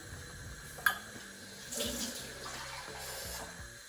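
Water splashes and pours steadily into a pot of cooking bean and chickpea stew, a soft continuous rushing with one brief clink near the start.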